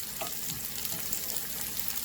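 Brinjal quarters sizzle and fry steadily in a pan with no added water, a constant close crackling hiss with faint stirring.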